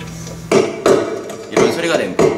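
Percussive knocks on the body of an all-solid classical guitar picked up through its built-in pickup mic, four sharp, resonant thuds at irregular intervals, fairly close and loud with a hollow woody ring.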